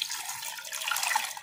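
Water pours in a short steady splashing stream into a pot of thibbatu curry, close and fairly bright, with no voices.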